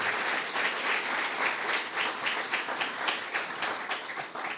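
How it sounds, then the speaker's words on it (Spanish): An audience applauds during a talk show with author Guillermo Arriaga, a steady crowd clapping with slight surges in rhythm, close and continuous for a few seconds with no voices over it. "un aplauso para los libros largos"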